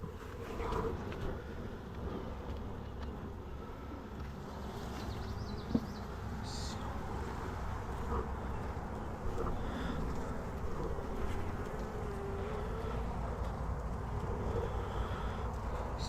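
Honey bees buzzing around a beehive frame taken from a hive, a dense, steady droning hum close by that carries on without break, with slight wind noise and occasional handling bumps.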